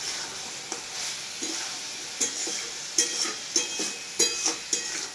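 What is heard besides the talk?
stirring lightly salted food frying in a pan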